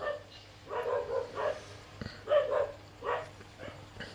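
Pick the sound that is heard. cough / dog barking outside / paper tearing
dog barking outside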